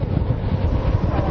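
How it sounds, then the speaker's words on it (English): Roaring wind of about 65 to 70 miles an hour buffets the microphone in a deep, continuous rumble, loud and close without pause. "This is about 65, maybe 70 miles an hour worth of wind."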